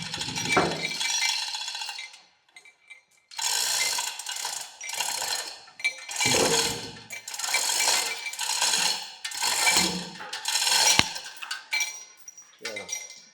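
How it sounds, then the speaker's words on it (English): A ratchet strap is adjusted during a Thompson grinder restoration. It gives a series of close rasping, clicking bursts in uneven rhythm, separated by brief quiet gaps. "I'm gonna reposition that strap just a tad."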